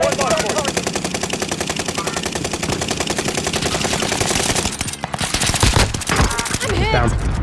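Rapid automatic gunfire in a multiplayer trio shooter match, a fast steady rattle of close shots with a few heavier impacts near the end, mixed with busy game effects.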